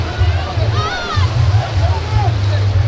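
High-tide sea waves at Digha beach wash and slosh steadily against the shore, a loud, continuous churning roar with a low rumble, while people talk over it nearby.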